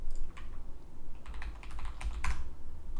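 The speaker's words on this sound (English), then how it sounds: "What's that keyboard? It sounds so nice." Clicky keystrokes from a custom-built mechanical keyboard, typed in quick irregular bursts with short pauses, close and clear over a low steady background hum.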